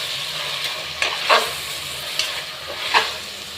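Green peas sautéing in a pan give a steady soft sizzle, broken by a few scraping stirs from a spatula, close and moderately loud with no talking.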